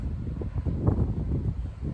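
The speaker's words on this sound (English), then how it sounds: "It's quite windy." Steady wind buffets the microphone with low rumbling gusts, a continuous blustery roar without distinct voices.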